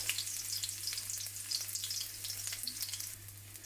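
Garlic frying in a wok at the start of a vegan Chinese-style celery stir fry, a quiet continuous sizzle and crackle with a low steady hum underneath.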